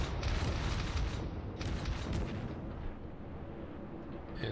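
Heavy battleship gunfire from a Kongo in World of Warships: dense, rumbling booms and continuous roaring blasts, loud and sustained throughout with no voices.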